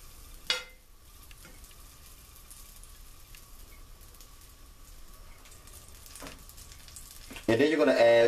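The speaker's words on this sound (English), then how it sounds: "Into your frying pan, you're going to add about 2 tablespoons of butter." A soft, steady sizzle of about 2 tablespoons of butter in a frying pan, faint and continuous, growing louder and hissier near the end.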